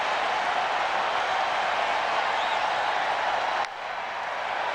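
A sellout baseball crowd at Fenway Park doing the wave, producing a broad, steady roar of cheering from a large distant crowd that drops off abruptly near the end.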